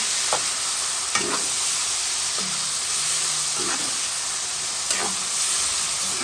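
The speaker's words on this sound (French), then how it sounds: "Je mélange bien le tout." Pork and mushrooms fry in a pan while being stirred, a steady close sizzle broken by scraping strokes of the utensil every second or so.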